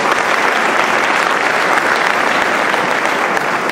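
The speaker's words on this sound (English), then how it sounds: "If you would please give him a round of applause." A large convention audience of Pakistani-American physicians at APPNA 2014 gives a loud, sustained round of applause for the Ambassador of Pakistan to the United States, dense and steady clapping filling the hall without a break.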